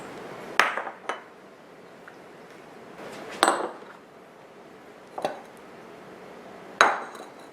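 A scoop working through homemade faux ice cream knocks against a hard dish, giving four sharp, ringing clinks spaced a second or two apart over a quiet background.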